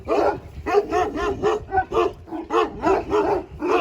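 An Anatolian Shepherd dog gives a rapid run of short, yappy barks and whimpering yips, close by and fairly loud, with no pauses longer than a moment.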